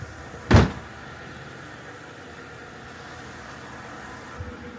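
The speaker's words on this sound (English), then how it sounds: "Lock this door." A Mercedes W211 car door being shut: one firm, close thud early on, followed by a quiet outdoor hush with a faint click near the end, no talking.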